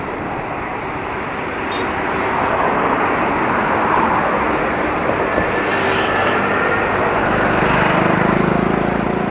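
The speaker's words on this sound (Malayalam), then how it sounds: "പഴയ ലോറിയാണല്ലോ, പഴയ കാലത്തെ ലോറി." An old lorry drives along a road in Kerala, its engine a steady, loud rumble with broadband road noise that holds throughout and swells slightly toward the end, with no voices.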